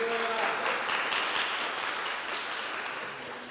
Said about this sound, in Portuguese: A igreja aplauda ao Senhor.